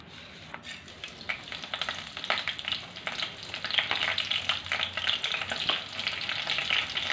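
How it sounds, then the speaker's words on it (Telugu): Tempering spices crackle and sizzle in hot oil, a dense, loud frying hiss that builds and holds steady with bursts of popping throughout. "ఇప్పుడు నూనె మరిగింది, పోపు దినుసులు వేస్తున్నాను."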